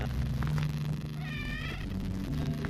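A cat meows in the OneShot game, one clear mewing call rising midway over a steady low hum of game music, with no talk.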